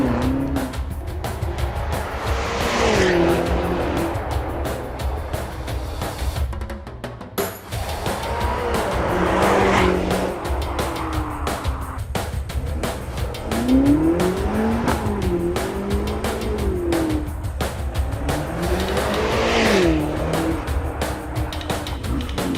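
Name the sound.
SUV with all-wheel drive turning and accelerating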